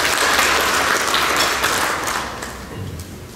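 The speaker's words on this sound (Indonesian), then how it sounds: "kita berikan tepuk tangan dulu buat Asperindo" A crowd at a regional Asperindo assembly in NTT, Indonesia, gives a round of loud, dense applause for Asperindo that gradually thins and fades toward the end.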